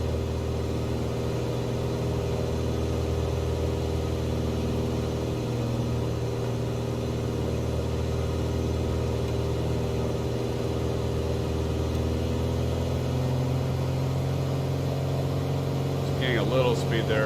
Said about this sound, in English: We pull out some of the pitch on the propeller here.